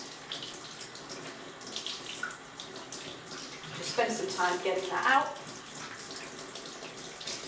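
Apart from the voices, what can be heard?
tap water running while rinsing a makeup brush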